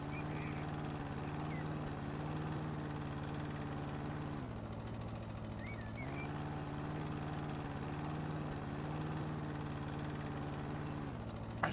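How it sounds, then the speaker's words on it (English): Loud lawn mower engine running close, its steady drone shifting pitch a few times as the load changes, with faint birds in the background. "It's really loud, this lawnmower."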